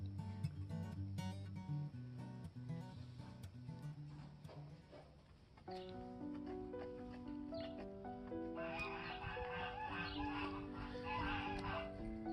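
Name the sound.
geese, ducks, chickens and guinea fowl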